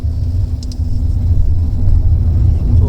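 A 2022 Honda City e:HEV hybrid with a 1.5 petrol engine pulls away and gathers speed, a steady low drone and road rumble building gently and continuously throughout.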